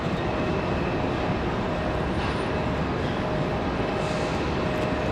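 An airliner departs Raleigh-Durham International Airport, its loud, steady jet roar filling the air as a broadband rumble with no break and no talk.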